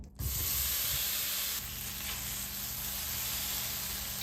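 Tofu sizzles in a hot pan on a stovetop set to medium, a steady close frying hiss that holds evenly throughout with no talking.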